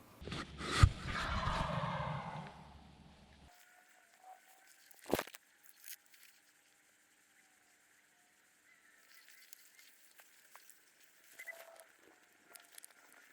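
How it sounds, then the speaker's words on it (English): A wild Missouri spring turkey gobbles loud and close for a couple of seconds, followed by a quiet outdoor stretch with one sharp knock and faint, scattered bird calls far off. "the gobble's now right behind me. Big, loud gobble."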